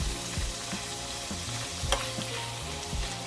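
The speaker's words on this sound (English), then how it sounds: "And now we can start to pan fry a little bit" Sesame chickpeas pan frying, a dense continuous sizzle with low clattering stirs and one sharp scrape, loud and close with no talk.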